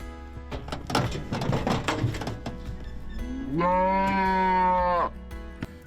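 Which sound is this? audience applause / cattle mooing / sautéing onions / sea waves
cattle mooing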